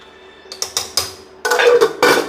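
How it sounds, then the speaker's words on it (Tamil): A few light metallic clinks and taps, then a longer scraping clatter of a lid being set onto a pot of goat head and liver gravy, close by. "இப்போ வந்து மூடி வச்சிடும்"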